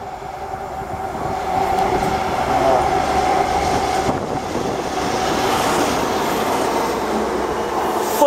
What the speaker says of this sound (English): Now arriving is a Virgin East Coast, London King's Cross to Aberdeen.